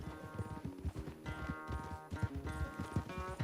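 A horse's hooves pound in a quick galloping rhythm in Red Dead Redemption 2, steady and close, with music playing underneath.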